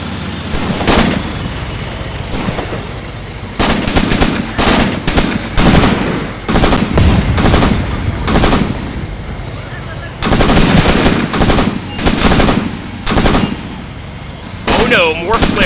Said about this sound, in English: I'm going to go ahead and try to open up on any number of these assault vehicles.